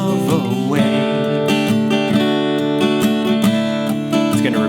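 Acoustic guitar strumming a chorus at a slow tempo in waltz time, with steady sustained chords, close and fairly loud, no talking.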